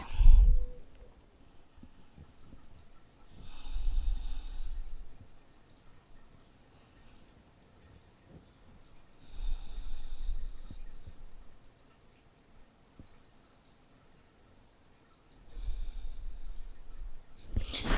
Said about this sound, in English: And we'll take 3 deep breaths here.